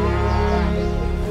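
Wild cattle by the banks of the Nile give a single long, loud, close moo that holds steady for over a second, with no talk.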